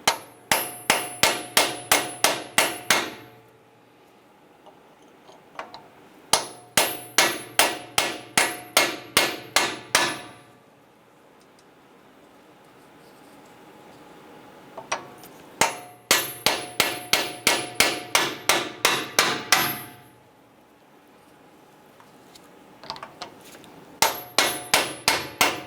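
Rapid bursts of metal-on-metal hammer strikes drive a rear axle bearing onto a 2002-2008 Dodge Ram 1500 axle shaft, each burst about ten sharp ringing blows, separated by quiet pauses, close and loud.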